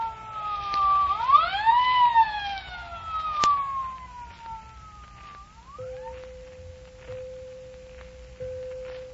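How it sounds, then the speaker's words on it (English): An ambulance siren in a 1949 radio drama rises and falls in sweeping wails, then gives way to a flat, sustained tone, heard clearly and fairly close against a quiet background. "The siren came, and the ambulance appeared"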